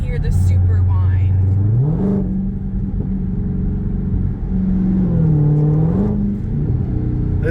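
A car accelerates with a supercharger whine, the engine note rising and dropping through gear changes alongside a steady mechanical whir, loud and close inside the cabin.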